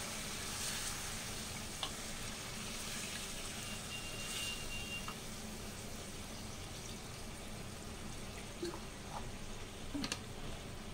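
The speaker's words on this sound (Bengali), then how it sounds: "এবার আমি দিয়ে দিচ্ছি জল" Boal fish kalia simmering in a pan as water goes in, a steady broad sizzle and bubbling hiss with faint ticks and clinks of a spoon running throughout, no talking.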